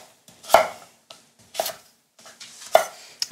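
A knife chops sweet potato into small dice on a cutting board, making three sharp, separate knocks with softer scraping and taps in between, close and alone without talk.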